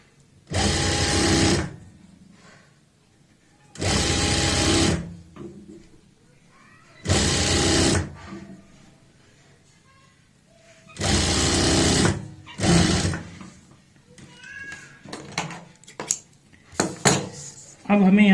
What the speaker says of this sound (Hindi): और अंदर वाली साइड सिलाई लगाते हैं